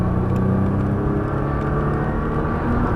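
A Nissan GT-R at speed on the Lédenon race circuit, heard as a steady, dense engine roar with a constant rumbling drone throughout and no break or audible gear change.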